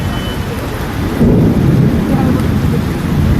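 Steady, heavy rain pours close by with rolling thunder rumbling underneath, swelling slightly louder partway through and continuing without a break.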